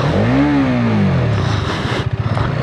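A Hero Karizma XMR Combat Edition motorcycle revs close by, its engine note rising and falling in pitch before settling into a rough, pulsing idle with rhythmic exhaust pops toward the end.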